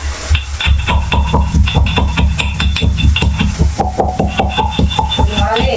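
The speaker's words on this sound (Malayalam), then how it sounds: "ഒരു കുരുമുളക് ഇടിച്ചെടുക്കാം" Rapid, steady thudding of black pepper being pounded in a mortar, with dull low knocks repeating continuously and a little scraping between strikes.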